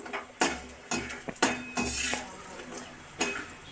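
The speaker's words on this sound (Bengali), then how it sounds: "সেটা আমরা কড়াই দিয়ে তেল দিয়ে বড়ি ভেজে নিচ্ছি" Lentil dumplings (bori) fry in oil in a wok, with a soft sizzle under repeated metal spatula clinks and scrapes against the pan, about six sharp knocks in a loose rhythm, close by.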